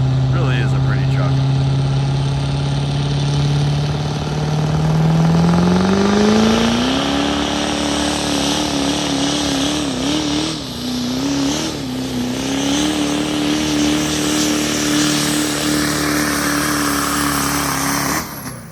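A pull truck's engine revs hard at a 2024 King of the Street sled pull, its pitch climbing and then holding a loud sustained drone, with an announcer talking over it.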